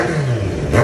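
Kawasaki Z900 motorcycle with an M2 exhaust fitted with its silencer, a short loud engine rev that rises and swells near the end.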